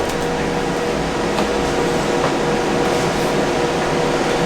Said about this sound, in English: Compressor's running, but this thing is loud